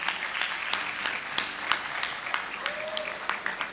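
Audience clapping at a university graduation congregation, a steady spread of many hands with scattered sharper claps, moderately distant and continuous throughout.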